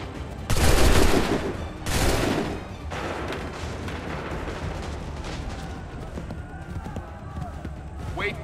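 A musket volley fires during a battle in the video game Assassin's Creed III: two loud booming bursts close together, then a lingering rumble of scattered gunfire with voices underneath.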